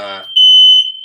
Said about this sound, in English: These damn fire alarms, man, they're happening.